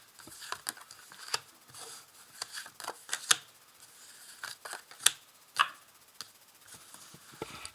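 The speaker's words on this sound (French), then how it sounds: "Je tire 5 cartes." Five playing cards are drawn from a deck for a card reading, heard as scattered crisp snaps and soft slides up close against a quiet background.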